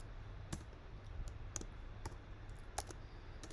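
Keys clack on a computer keyboard while code is being written, a handful of sparse, distinct clicks over a quiet room hum with no talking.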